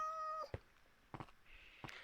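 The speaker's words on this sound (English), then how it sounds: "I've got cats meowing everywhere" Cats meow a few times in a Minecraft world, with short separate calls spaced across the moment, close and clear with no talking over them.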